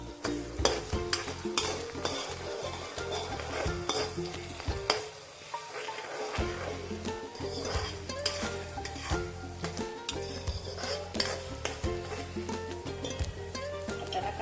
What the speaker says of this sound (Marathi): हा कांदा ना थोडा परतून घ्यायचा आपल्याला